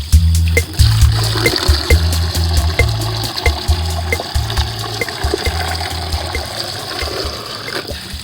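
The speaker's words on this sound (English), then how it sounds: "The next step is to rinse all of the industrial products off of the PVC." Water running and splashing as industrial residue is rinsed off PVC pipe during a DIY aquarium overflow box and drain upgrade, a steady close rush with low gurgling bursts and no talk.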